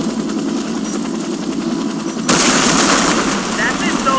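Helicopter in the video game Warface: a loud, steady rotor and engine roar swells in abruptly partway through and holds, over a quieter background of game noise.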